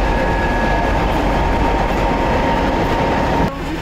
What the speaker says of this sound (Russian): Первый туристический поезд «Уфа-Ульяновск» прибыл в наш город.